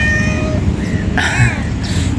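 Several cats meow at an animal shelter, with a few distinct rising and falling cries that overlap one another. They sound fairly close against steady background noise.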